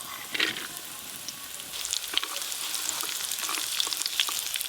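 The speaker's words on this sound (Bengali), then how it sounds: "কাজু আর কিশমিশ একদম হালকা করে নেড়ে নিয়েছি" Cashews and raisins frying in a shallow mix of white oil and ghee, a steady close hiss of sizzling with light crackles and occasional spoon stirs, no voices.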